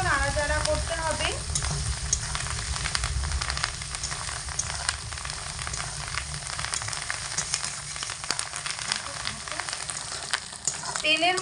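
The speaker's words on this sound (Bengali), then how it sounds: "তেলের মধ্যে ডিম দিয়ে মিনিট 2 সময় ধরে মিডিয়াম আঁচে রেখে ভেজে নিয়েছি" Fish roe frying in oil over medium heat while being stirred: a loud, unbroken sizzle and crackle lasting the whole stretch, with occasional scraping and clicks from the spoon and no talking.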